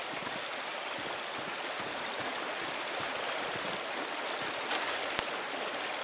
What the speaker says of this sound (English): The waterfall must flow down from the snowmelt in the mountains above the Andes.